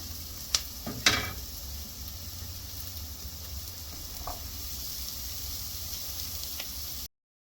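Chopped white bitter gourd fries in a pan of sautéed masala for a pickle, giving a soft, steady sizzle, with a couple of sharp clinks near the start before the sound cuts off abruptly.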